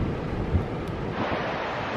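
Winter sea waves breaking and rushing in on the Cornwall coast: a loud, steady roar of surf with heavy wind buffeting the microphone, no voices heard.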